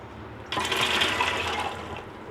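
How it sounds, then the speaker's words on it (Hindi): Water gushes from above into a pressure cooker holding chickpeas, a steady close splashing pour lasting under two seconds. "साथ ही इसमें पानी डाल दूँगी"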